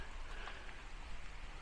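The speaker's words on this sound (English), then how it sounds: "Absolutely pissing it down all of a sudden" Heavy rain suddenly pouring down outdoors near a tunnel exit by Tentering Tower in Stubbins, Ramsbottom, a steady dense hiss of drops on surfaces, close and unbroken throughout.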